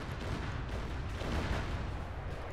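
Rocket fire in a military video game, heard as a continuous rumbling roar of launches and distant blasts, steady and somewhat muffled throughout, with no talk.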